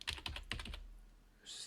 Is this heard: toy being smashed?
no